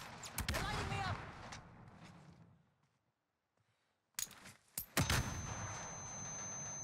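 Loud bursts of gunfire in a video game multiplayer match aimed at the player on a staircase, sharp cracks and a dense volley up front, a quiet gap, then more sudden shots with a lingering ring.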